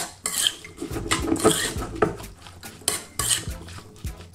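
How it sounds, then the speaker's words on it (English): A spoon or utensil clinks and scrapes against a bowl while stirring olive oil, salt and pepper, producing irregular close taps and rubbing strokes with brief pauses; no talking. "Touch of olive oil. And just give it a mix."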